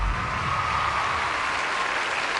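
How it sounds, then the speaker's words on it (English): Studio audience applause at a talent show for performer Dave Knackford, a continuous wash of distant crowd clapping at moderate level with no voices over it. "Nice round of applause"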